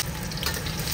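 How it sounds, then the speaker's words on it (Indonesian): Onions and soaked rice frying in a pan for bak chang, a steady close sizzle with stirring scrapes running through the whole second. "Kita goreng beras gorenglah bawangnya semua."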